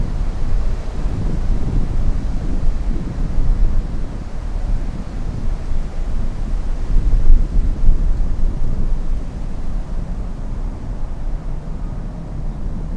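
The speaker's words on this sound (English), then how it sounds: "That's a good crosswind." A gusty crosswind at Miami International Airport roars across the microphone as a continuous low, rumbling buffet, loud and close, swelling and easing in uneven surges throughout.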